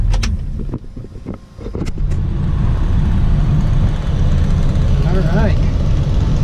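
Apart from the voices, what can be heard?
1966 Chevy II Nova engine starting and running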